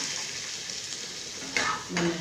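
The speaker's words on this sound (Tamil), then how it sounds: "இந்த மசாலாலேயே நல்லா பிரட்டி விட்டு நல்லா வேகணும்" Fish pieces tossed in masala in a pan at home, a steady soft sizzle of frying with a couple of sharper scraping stirs near the end.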